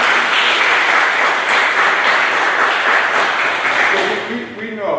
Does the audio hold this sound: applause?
yes